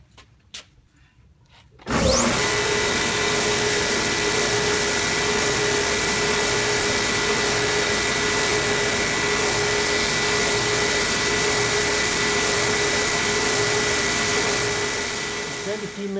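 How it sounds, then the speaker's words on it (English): A belt sander runs steadily on wood after starting up abruptly, giving a loud continuous whine and motor drone with a high steady tone that holds for the rest of the stretch, close and dominant. "So when you want to sand it, you use light pressure and just touch it real easy until it sands away."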